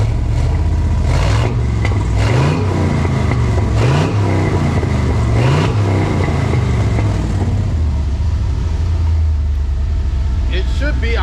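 A Jeep TJ engine that has been sitting for a while revs up several times in repeated rising surges over a steady rough idle, loud and close throughout.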